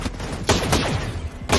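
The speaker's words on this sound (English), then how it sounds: "There's a big mounted gun it's fighting right now." Heavy mounted gun firing in Ghost Recon Breakpoint, with loud sharp broadband bursts near 0.5 s, 0.75 s and 1.5 s over continuous combat rumble.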